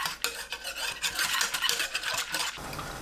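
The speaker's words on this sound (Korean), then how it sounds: "물 600ml, 찹쌀가루 2큰술 넣고 섞어주세요." Water and glutinous rice flour are stirred into a paste, with a quick, rhythmic scraping and clinking of a utensil against a pot close by that stops shortly before the end, with no voices.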